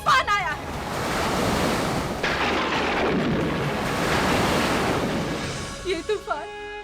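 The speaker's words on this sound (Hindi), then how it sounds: "इसीलिए लंका के समुद्र में तूफान आया है।" A stormy sea off Lanka roars with crashing waves and gusting wind in a continuous, loud surge, while brief voices sound at the very start and again near the end.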